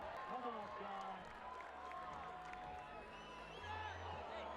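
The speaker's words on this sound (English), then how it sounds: "Plenty of encouragement from the low crowd." Crowd at a climbing World Cup bouldering final in Vail cheering and applauding the climbers, a dense continuous roar of clapping and shouts heard with talking over it.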